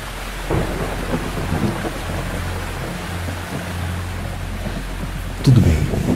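Steady rain with rolling thunder in The Sims 4, a continuous low rumble under dense rainfall, swelling into a louder thunder crack near the end.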